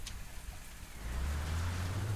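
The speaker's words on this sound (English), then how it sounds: "It's raining." Steady rain falling, a dense continuous hiss of drops that grows slightly louder and heavier partway through, with a low rumble beneath and no voices.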